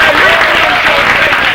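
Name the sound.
applause at a celebration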